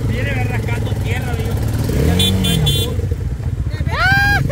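A motorcycle engine runs steadily and loudly nearby, its rumble continuous throughout, with people talking over it and chirpy tones on top.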